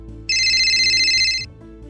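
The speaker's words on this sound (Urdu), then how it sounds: "پرائیویٹ فون کی گھنٹی بج رہی ہے" Telephone bell ringing as an audio drama sound effect: one bright electronic ring burst lasting just over a second, loud and close over a faint low background hum.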